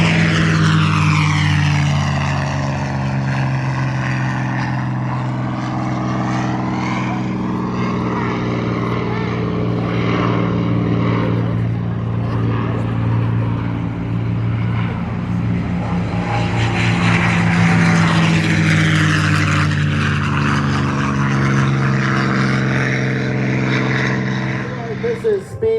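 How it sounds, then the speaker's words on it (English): A P-51 Mustang with a Rolls-Royce Merlin engine flies by at an air show. The loud, sustained propeller-engine drone swells and shifts in pitch as it passes, carrying crackling pops. "the pop from that beautiful Rolls-Royce Merlin engine"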